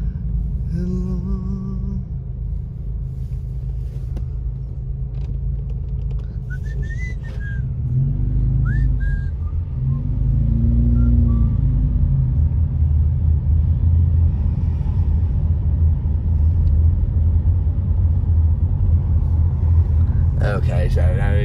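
A car drives along Highway 38 through the El Dorado fire burn areas, a constant low engine and road rumble that grows louder partway through, with people talking and singing over it.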